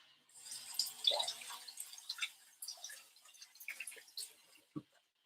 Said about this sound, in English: Here's a jalapeno pepper. We're going to wash it.